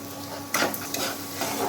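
Ginger garlic paste frying in ghee in a pan is stirred, giving a faint steady sizzle with a couple of brief scraping strokes from the spoon, close by and without talking.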